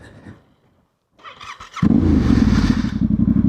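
A Yamaha Tenere 700 motorcycle rides off-road on a cold day in Scotland. Brief mechanical noise and a short pause come first, then the engine bursts in loud and close and holds a throbbing, pulsing roar as the bike pulls away.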